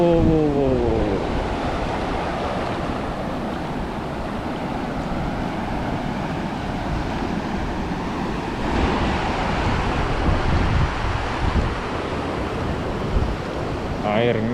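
Sea waves wash steadily onto Kuta Beach after rain, a continuous broad roar of surf with wind buffeting the microphone throughout, close and fairly loud, with no voices.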